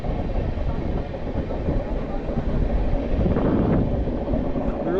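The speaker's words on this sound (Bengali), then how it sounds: "ট্রেন ঘুরছে আস্তে আস্তে।" A passenger train rolls slowly around a curve with a low, continuous rumble and faint rail clatter, heard from aboard a moving AC Duronto Express. A voice speaks briefly over the noise.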